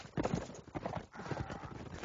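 Cavalry horse hooves in a medieval battle video game, rapid galloping clip-clop beats in quick succession, fairly close and faint, with no speech over them.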